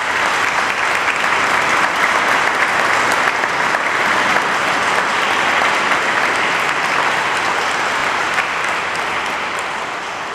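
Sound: applause

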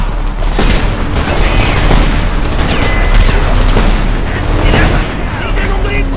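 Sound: hand grenades exploding in the Homefront video game

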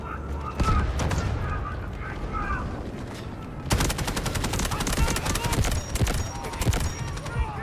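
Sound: gunfire in the video game Delta Force

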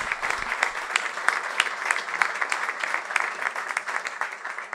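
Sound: audience applause in an auditorium

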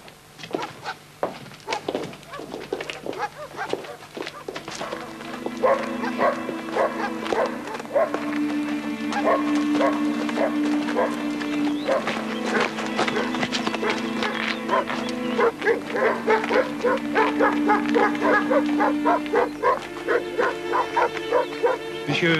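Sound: dogs barking

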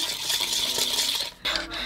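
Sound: tiny hand whisk stirring butter with sugar

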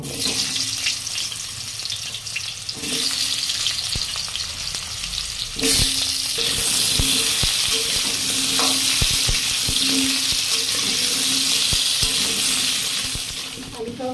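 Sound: potatoes frying in oil

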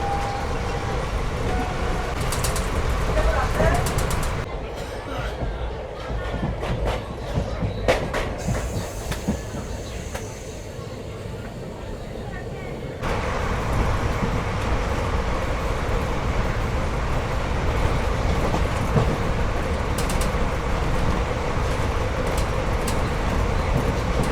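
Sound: Azimganj–Katwa passenger train running

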